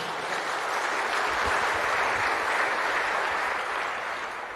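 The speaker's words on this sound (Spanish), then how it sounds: "Ahora le mando un fuerte aplauso a nuestra hermana." Steady, dense applause fills a hall at a church gathering on pastoral reflection, a continuous wash of many hands clapping at even loudness for several seconds with no break.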